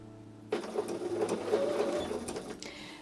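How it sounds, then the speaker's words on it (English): A sewing machine starts up after a brief quiet moment and runs in a steady rapid stitching chatter while piecing a Christmas quilt table runner, close and clear, easing off near the end. "So I'm going to start sewing."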